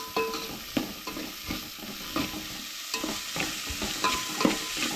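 Onion and chilies fry and are stirred in a pan for Goan jackfruit bhaji, with a soft background sizzle broken by scattered scraping clinks of the spoon, fairly quiet and close.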